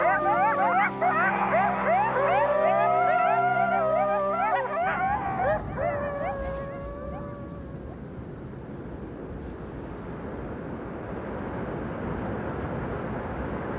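Coyote pack in Yellowstone joining in a group howl, several wavering, overlapping voices rising and bending for about seven seconds before giving way to steady outdoor background noise.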